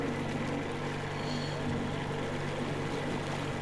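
In Metro Exodus: Sam's Story, a boat engine runs at full throttle through a polluted swamp, a constant, even motor drone with a faint wash of water.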